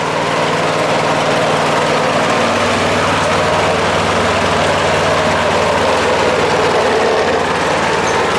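A Craftsman self-propelled lawnmower engine runs loud and steady at close range, a continuous rough droning rumble with no talk over it.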